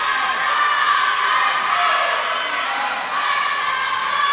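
A wrestling video game crowd of fans cheers continuously, a dense, loud roar of shouting and whooping that holds steady throughout, with a commentator's voice talking over it.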